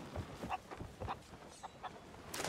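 Chickens cluck softly in the pirate video game Sea of Thieves, kept above deck on a ship, with short scattered clucks at close range over faint wind and ambient noise.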